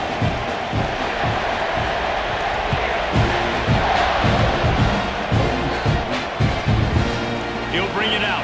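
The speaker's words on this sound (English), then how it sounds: "this crowd now ready to get behind them" Football stadium crowd at an NCAA game roaring and cheering steadily before a kickoff, a loud dense wash of voices with rhythmic surges and shouts throughout.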